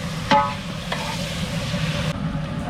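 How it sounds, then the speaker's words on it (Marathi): Cobia fish pieces cooking with onion in a pan aboard a boat, a steady sizzle with a few sharp clatters of stirring near the start, close and continuous without speech. "मोरी माशाचे तुकडे म्हणजे सगळ्या माशाचे पीस आपण जेवणामध्ये टाकत आहोत कांदा मध्ये मोरी माशाचे पीस आपल्याला शिजवायचे"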